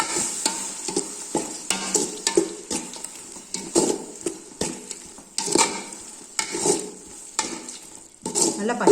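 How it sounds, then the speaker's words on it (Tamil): Ginger and garlic sautéing in a pan, with close, loud, repeated stirring scrapes of a spoon against the pan over a continuous sizzle. "நல்லா பச்சை வாசம் போகிற வரைக்கும் வதங்கட்டும்."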